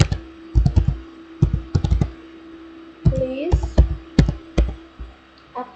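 Keys on a computer keyboard are struck in short clustered bursts with brief pauses between, close and fairly loud over a faint steady hum, as commands for a NAT and VLAN network setup are entered.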